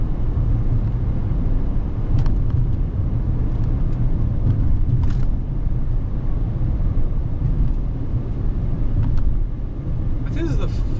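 A 2014 Mercedes-Benz ML350 CDI with its turbocharged V6 diesel cruising along, giving a steady low rumble of engine and road noise throughout, with faint brief clicks and rattles from the cabin.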